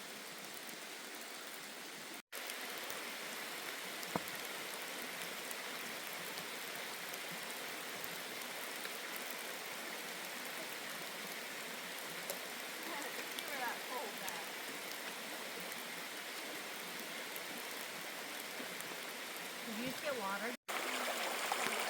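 Mountain stream water rushes steadily along the Appalachian Trail in North Carolina, a continuous close hiss with no pauses, interrupted only by two brief dropouts.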